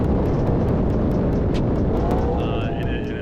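McLaren MP4-12C tuned to 750 wheel horsepower with a titanium straight-pipe exhaust, roaring loudly and continuously with a heavy rumbling drone, close to the microphone and buffeted by wind.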